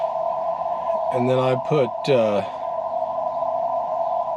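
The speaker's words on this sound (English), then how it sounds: "It tells everyone I'm running Morse code" Morse code CW tones on amateur radio at 14049.5 kHz during an outdoor Parks on the Air operation in Minnesota: a steady, unbroken high tone runs through the whole stretch while someone talks over it.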